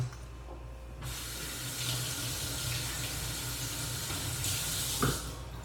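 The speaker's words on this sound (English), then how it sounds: "I'm just going to wash all of the fruit" Running tap water pours steadily into a sink while blueberries, raspberries and strawberries are washed, a continuous close hiss with slight splashing changes as the fruit is moved under the stream.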